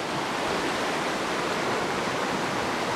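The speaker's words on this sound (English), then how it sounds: "You can see that you're right along the Beaver River." The Beaver River flows past a campsite on the Superior Hiking Trail near waterfalls, a steady broadband rushing roar that holds constant and close throughout with no voices.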